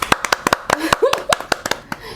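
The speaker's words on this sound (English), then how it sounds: "Chioma, clap." A few people clap their hands in loud, close, uneven bursts of sharp slaps, joined by a voice and other speech underneath.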